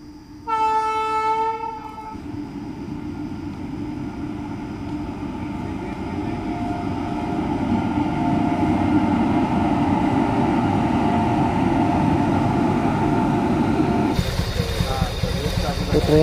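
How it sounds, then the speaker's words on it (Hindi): A train rumbles steadily and loud past a closed level-crossing gate on the road to Murga Mahadev temple. It opens with a brief horn blast, and a louder rattling surge comes near the end. "तो ट्रेन जा चुकी है और अब इंतज़ार है गेट के खुलने का।"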